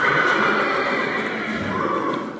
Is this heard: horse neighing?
yes